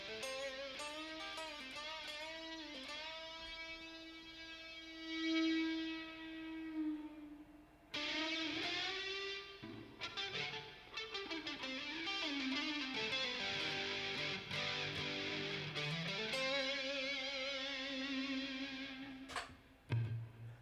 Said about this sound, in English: That distortion is hurting my ears.